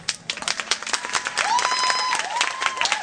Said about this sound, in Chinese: 你们的掌声把他们吓跑了。